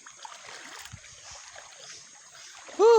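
River water running along a rocky channel, a soft continuous rushing hiss heard alone at low level, before a voice cuts in loudly at the very end.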